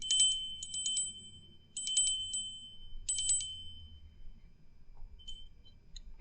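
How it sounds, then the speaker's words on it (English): A small handbell is rung during a pick-a-card angel card reading: three short bursts of bright, high ringing, each a quick cluster of strokes, in an otherwise quiet room, fairly soft and close. "I'm ringing the bell."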